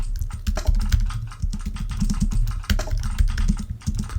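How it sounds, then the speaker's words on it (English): Rapid, steady clatter of keys on a computer keyboard, close and continuous, with dense irregular clicks and no voices. "me typing all of these things"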